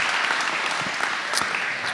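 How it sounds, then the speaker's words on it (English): Steady applause from an audience honoring students at a school family gathering, many hands clapping close and even for the full stretch with a few sharper individual claps. "Can we give our students another round of applause?"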